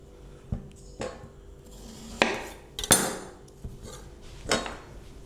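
A knife cuts a cucumber in halves on a board for a Japanese crab salad, giving sharp, separate chopping knocks spaced about a second apart, close and clear with no talk.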